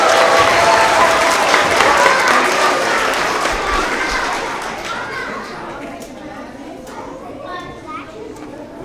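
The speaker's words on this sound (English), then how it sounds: "Let's have another round of applause for all our first grade Tigers of the quarter." Audience at a school award assembly for kindergarten through second grade claps in loud sustained applause that gradually fades, with children's chatter and crowd murmur mixed in.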